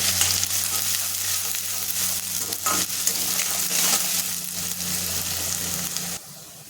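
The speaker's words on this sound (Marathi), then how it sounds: "कांदा ते छान परतून घ्यायचे" Onion sautés in a pan with crushed ginger, garlic and green chili, giving a loud, continuous hiss and crackle close up, with a low steady hum beneath, until the sound cuts off abruptly near the end.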